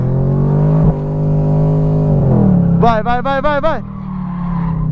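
Camaro convertible on a racetrack with traction control on, engine droning loudly then surging into rapid rising rev bursts as it accelerates, with a brief shout and voices in the cabin.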